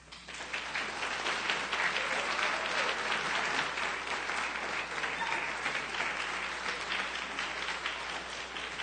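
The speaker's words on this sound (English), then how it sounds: "Let's give them another round of applause." A congregation applauds at a church Black History Month gathering, a sustained, even wash of clapping from many hands filling the room throughout.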